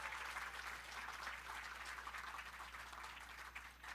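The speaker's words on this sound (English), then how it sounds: "can you please rise and give them a round of applause?" Faint, distant-sounding applause at a physician assistant white coat ceremony as family members and guests clap steadily for incoming students, with a low constant hum beneath the clapping.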